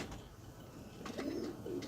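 Low, soft cooing from pigeons in short throaty bursts, slightly distant, over a steady outdoor background hum.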